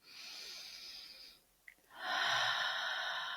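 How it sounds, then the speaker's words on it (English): A long, audible breath drawn in through the nose, then a brief pause and a strong, breathy exhale, close and clear with no talking. "One more deep breath."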